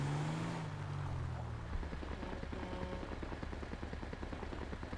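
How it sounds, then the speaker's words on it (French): Rapid gunfire bursts in GTA 5, heard during a police-patrol mission with army forces. Dense, repeating sharp cracks like machine-gun fire roll on steadily over a low engine rumble, at moderate distance, with a brief low hum at the start. "Oula, j'entends des coups de feu."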